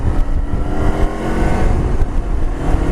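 A Kawasaki Versys-X 300 motorcycle engine drones steadily while riding, a dense, continuous hum blended with wind rush, loud and close throughout with no talking.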